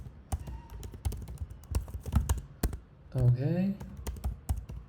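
Password keys tapped on a computer keyboard in quick, uneven clicks, close and clear, with a short spoken word partway through.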